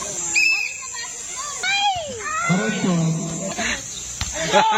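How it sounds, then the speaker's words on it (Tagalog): A cat gives several short meows and yowls amid a noisy indoor party game, with children shouting and chattering loudly around it. "Pusa po yun."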